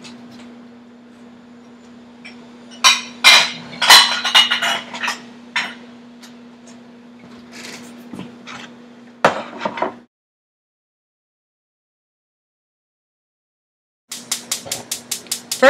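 Whisking in a bowl: scattered clinks and scrapes of kitchenware come first, then a pause, then a quick steady run of light metallic taps near at hand, with no talking.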